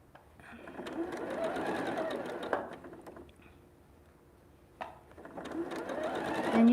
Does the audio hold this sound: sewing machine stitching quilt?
yes